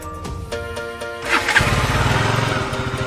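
A KTM RC 200 motorcycle engine cold starts: a few seconds of starter cranking and sputter, then it catches into a rough, pulsing idle, close and fairly loud with no talk.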